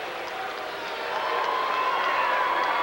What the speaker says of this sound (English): Cheers from Gibson City, Melvin Sibley's side, which is a lot of cheering